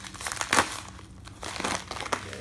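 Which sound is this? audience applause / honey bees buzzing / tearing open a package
tearing open a package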